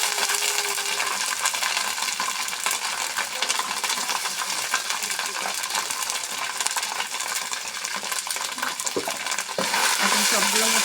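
Cumin and garlic paste being stirred in a hot pan, a dense steady sizzle with metallic scraping and a few sharp clinks near the end.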